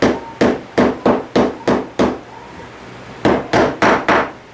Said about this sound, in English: Hammering on the nail, not on the wood.